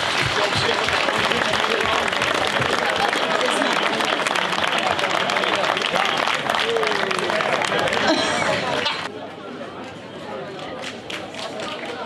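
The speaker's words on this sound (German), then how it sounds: "die haben mal einen ganz dicken Applaus verdient" Sustained applause from a seated audience at a village fair in Essingen, Pfalz, a dense crackle of many hands clapping together that thins out toward the end, with some voices underneath.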